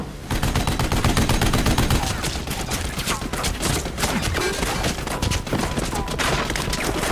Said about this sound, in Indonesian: si Ubed langsung berjalan ke tank untuk menembaki Atami